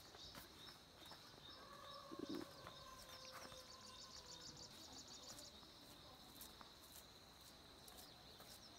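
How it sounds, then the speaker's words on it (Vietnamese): Birds chirping and cooing in a countryside garden in a Hmong highland area, soft and distant over a steady bed of insect or cricket buzz, with no talking. "Các bạn có nghe tiếng chim hót líu lo"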